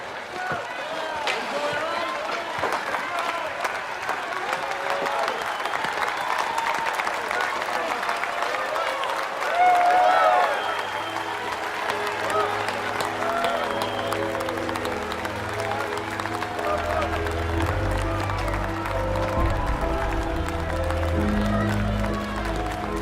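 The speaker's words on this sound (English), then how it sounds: "Why are they cheering?" A hockey arena crowd cheering and applauding after a lost game, a dense continuous roar of clapping and voices that swells briefly midway, with low music-like tones entering later.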